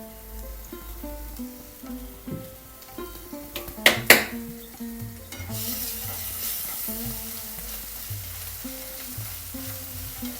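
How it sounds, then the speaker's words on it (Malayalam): Crushed garlic, ginger and mint hit hot oil in a pan and fry with a steady sizzle, while a utensil stirs and a couple of sharp metal clinks ring out near the middle. "ഈ ചൂടായ എണ്ണയിലോട്ട് ഞാൻ നേരത്തെ ഇതിന് ചേർത്തതിൻ്റെ ബാക്കി വെളുത്തുള്ളിയും ഇഞ്ചിയും പുതിനയും ചതച്ചില്ലേ, അതിനകത്തോട്ട് ഇട്ട് കൊടുത്തേ"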